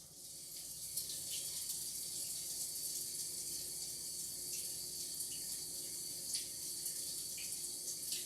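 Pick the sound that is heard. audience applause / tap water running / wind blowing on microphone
tap water running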